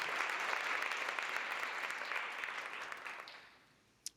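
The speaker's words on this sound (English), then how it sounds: "So please give yourself a round of applause." Audience at a career event applauds in a full, even burst that tapers away over about three seconds, ending with a single sharp clap.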